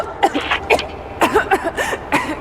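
A woman coughs and clears her throat in several short, raspy bursts in Rise of the Tomb Raider, close and fairly loud, with brief pauses between them.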